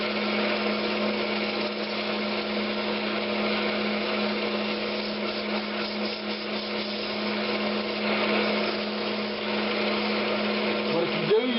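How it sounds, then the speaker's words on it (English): Brazilian cherry lidded box being sanded on a spinning wood lathe, a continuous steady whirring drone with a rough abrasive hiss, unbroken throughout with little change in level. "Just sand it real well. Get all your tool marks out."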